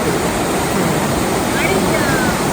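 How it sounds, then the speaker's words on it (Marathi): A small waterfall of clear water at the foot of Swiss mountains rushes in a steady, broad roar close by, continuous and fairly loud with no breaks. "इथे वॉटरफॉल आहे छोटासा आणि एकदम स्वच्छ पाणी"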